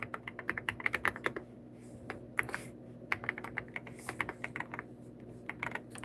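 Live typing on a computer keyboard: quick irregular bursts of close, crisp key clacks with short pauses between words, alone with no speech.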